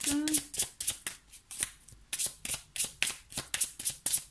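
Tarot cards are shuffled by hand in quick, regular riffling bursts, close and crisp, with a brief voice at the start.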